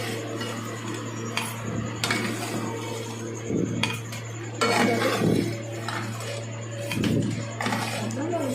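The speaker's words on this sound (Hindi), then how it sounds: "अब हम इसको डाल लेते हैं ग्राइंडर वाली डब्बी के अंदर।" Roasted whole spices for biryani masala tipped into a small metal grinder jar, giving light clinks and rattles in a few short bursts over a steady low hum, no speech.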